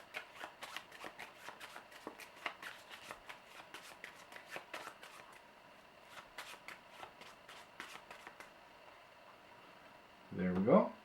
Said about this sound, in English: and then we will shuffle the treasure deck.